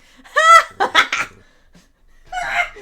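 Cartoon chicken clucks from the farming video game Fields of Mistria, a few short squawking bursts close up followed by another cluck after a pause, with no talk over them.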